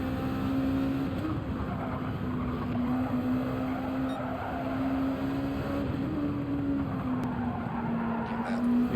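Honda NSX race car in a racing video game, a steady droning engine note held at near-constant pitch with faint tire noise underneath, continuous and fairly loud with no talk over it.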